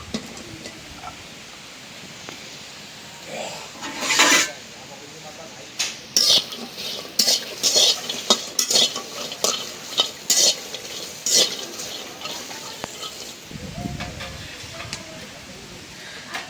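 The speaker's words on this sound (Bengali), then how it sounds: "এখন রসুন মরিচগুলি ভাজে নিই।" Garlic and green chilies fry in a pan while a utensil stirs and scrapes, giving a run of clattering, sizzling bursts over steady background noise.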